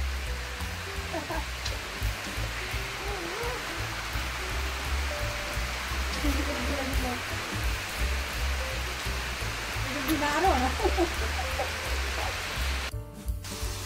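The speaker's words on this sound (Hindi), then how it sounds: "ये बारिश लग गई" Rain pours steadily outdoors as a broad, constant hiss of drops on surfaces, with faint voices and household sounds in the background throughout.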